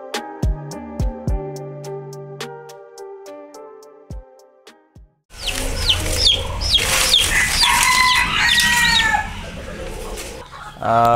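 Fancy chickens, including Japanese blue laced bantams, on a poultry farm in Jaffna, Sri Lanka: a melodic tone sequence at first, then a dense chorus of loud clucking and crowing that continues to the end.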